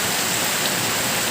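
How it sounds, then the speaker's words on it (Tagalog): Heavy rain pours down during a strong storm in the Philippines as a dense, steady roar of drops with no break, loud and close, and no voices. "kusog-kusog yun ang ulan."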